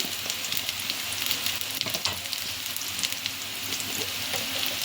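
Cumin and mustard seeds sizzling in hot oil for a taro curry, a dense crackling hiss with small pops scattered through it, close and steady for the whole stretch, with no talking.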